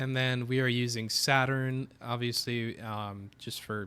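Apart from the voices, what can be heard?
None of the usual background noises is heard.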